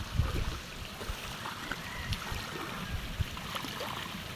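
Water overflows and trickles steadily through a rice paddy outdoors, a soft continuous burble with small splashy gurgles scattered throughout at moderate distance.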